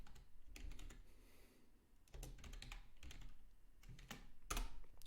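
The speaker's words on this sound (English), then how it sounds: "And I can actually type in here, so I can type" Close, quick typing on a computer keyboard in bursts of clicky keystrokes with short pauses between runs, steady and fairly quiet, with no talk.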